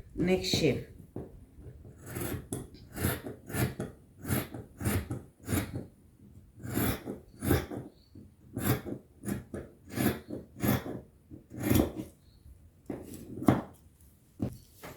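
Scissors snip repeatedly through fabric, cutting the neck shape of a cowl kaftan long dress, with a steady run of crisp close cuts and short pauses between them.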